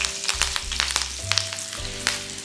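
Mustard seeds, cumin, broken dried red chillies and curry leaves fry in hot oil on a gas stove for a dal tempering. A close, steady sizzle is punctuated by small crackles and light stirring.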